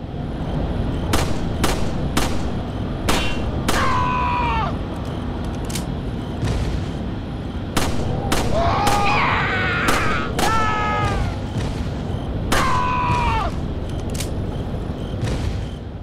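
Gunfire rings out in Resident Evil 4 as villagers are shot: roughly a dozen sharp, punchy shots at irregular intervals, with short strained vocal cries between some of them.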